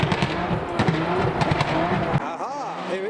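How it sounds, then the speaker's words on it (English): Volkswagen Golf R32 with a loud exhaust revving hard as it pulls away from a car show, a rough engine roar over crowd noise that then cuts to a rising and falling rev. "There sounds to be a rather loud R32 Golf revving upon leaving the"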